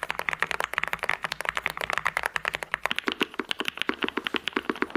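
Rapid, dense clicking of a mechanical keyboard being typed on, close and steady, with sharp individual keystrokes clearly audible throughout.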